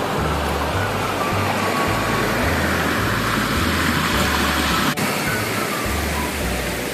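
Steady rushing water flows continuously in a forest, loud and close, with a low rumbling undertone and no voices.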